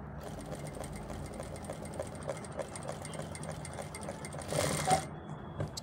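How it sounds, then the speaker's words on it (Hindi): Sewing machine stitching along the edge of a pair of ladies' pants, a steady close whirring hum of the needle running continuously with a brief louder burst near the end. "एक सिलाई हम इसकी किनारे पर लगाएंगे ऐसे"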